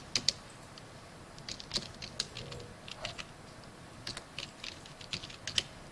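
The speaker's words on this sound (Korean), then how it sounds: "그런 다음에 타이핑 해주시면 되겠죠." Computer keyboard typing during a spreadsheet chart tutorial, heard as scattered, irregular soft key clicks with brief pauses, fairly faint and alone without any talking.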